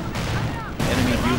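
Gunfire and explosions rattle through a Normandy battle in the World War II strategy game Company of Heroes, a dense burst of shots under shouted in-game voices.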